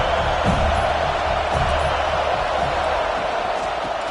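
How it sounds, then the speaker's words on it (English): A steady, dense roar from a stadium crowd at a football game, loud and continuous without clear breaks, like a fired-up home crowd filling the whole stretch. "It's early, but this crowd is fired up. Listen to this noise here."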